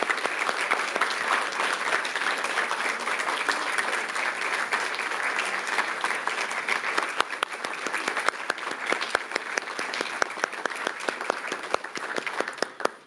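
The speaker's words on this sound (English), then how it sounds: "One more round of applause for our retirees." A school district meeting audience applauds retirees, sustained loud clapping from a large crowd filling the room for over ten seconds, with sharper individual claps standing out near the end.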